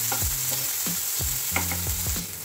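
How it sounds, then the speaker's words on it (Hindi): Chopped tomatoes frying with onions in a pan for sweet corn Maggi, a constant close sizzle broken by several quick scraping stirs of a spatula, no talking. "अब हम इसमें डालेंगे चॉप्ड टमेटोज, ये छोटा सा ही टमाटर था, थोड़ी देर के लिए फ्राई करेंगे"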